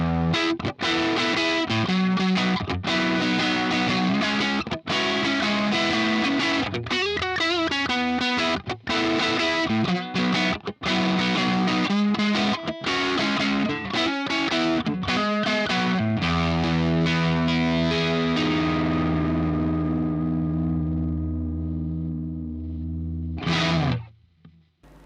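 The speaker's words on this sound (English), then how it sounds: "the very first Plexi preset is actually my real amplifier with all the knobs on 5, and that sound recreated with the Helix" Electric guitar through a Line 6 Helix Plexi preset modeled on a 1971 Plexi amp with all knobs at 5, giving a crunchy overdriven tone as loud riffs and chords play alone for about twenty seconds, then a final chord rings and fades.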